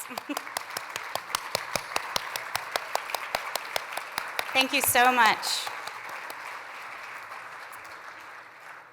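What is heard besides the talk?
audience applause for board members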